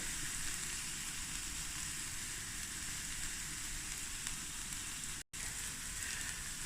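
Onions frying in a pan over medium-high heat for a cauliflower stew, giving a steady, close sizzle that holds level throughout with one very brief dropout near the end.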